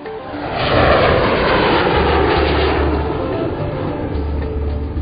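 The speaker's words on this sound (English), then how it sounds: "Airplanes can be very loud." A fixed-wing airplane's engines roar loudly and steadily, a broad, rumbling wash of sound that swells in the first second and then holds close and constant.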